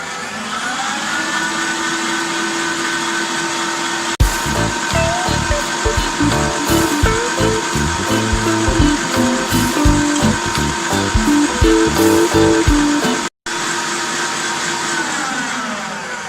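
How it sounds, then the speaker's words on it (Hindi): An electric beater whirs loudly and continuously while beating sugar and eggs into a creamy cake mixture, with its pitch wavering and rattling knocks from the bowl, then a brief cut-out near the end. "अब चीनी और अंडों को हमने बीट करना है जब तक कि दोनों चीज़ें अच्छी तरह से मिक्स नहीं हो जाती"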